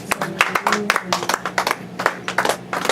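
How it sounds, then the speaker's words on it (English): Church congregation clapping in praise during a worship service, sharp rhythmic claps in quick bursts under raised voices, fairly close and lively. "Let's clap for Jesus"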